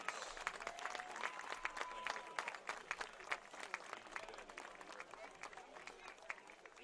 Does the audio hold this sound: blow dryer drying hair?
no